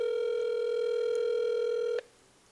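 A telephone ringback tone sounds while a call is placed to Plum Island, one steady ring lasting about two seconds before cutting off into quiet line hiss.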